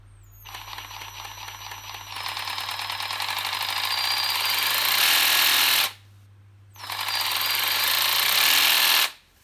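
A new Parkside FAAS 12 B2 12V cordless brushed-motor pruning saw runs, its whine rising and falling with variable speed, stopping briefly, then revving up again, loud and close with no talk.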